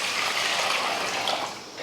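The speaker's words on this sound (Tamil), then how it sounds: "இதுலேயும் கொஞ்சம் தண்ணி ஊற்றிடலாம்." Water pours steadily into a bowl of soya chunks set to soak, a continuous close splashing gush lasting about two seconds with no talking.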